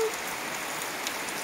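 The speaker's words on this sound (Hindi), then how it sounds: "wow, it's raining," Steady rain falling on a rainy day, an even, hissing patter with close drops, heard alone and fairly quiet.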